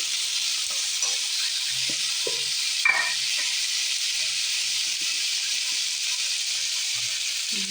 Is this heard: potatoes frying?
yes